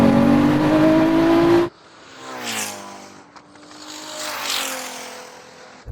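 A 3,000 hp SUV and a Ferrari SF90 roar off the line in a drag race, a loud rising engine scream cutting off abruptly, then two fainter distant swells as the cars pass, with scraping noise between.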